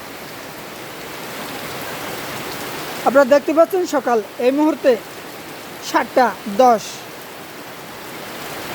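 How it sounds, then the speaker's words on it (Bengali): Heavy morning rain on Eid ul-Adha in Cox's Bazar district makes a steady wash of noise, while someone talks over it partway through. "এর আগে থেকে বৃষ্টি শুরু হয়েছে কক্সবাজার জেলায়"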